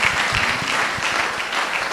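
An audience at a student induction ceremony claps steadily and fairly loudly throughout, a continuous dense patter of many hands with no pause.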